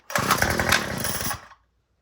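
A small two-stroke string trimmer engine, started cold on choke, sputters to life for about a second with a loud, rough, buzzing rattle and then cuts out abruptly to silence.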